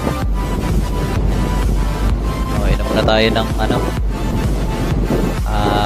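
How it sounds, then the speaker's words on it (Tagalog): Strong wind by the sea buffets the microphone in a steady, loud roar under a person talking throughout. "Lakas ng hangin,"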